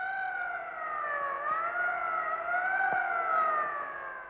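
An ambulance siren wails steadily in rising and falling tones as it carries a fainted politician away, clear and fairly loud at moderate distance, with no talking over it.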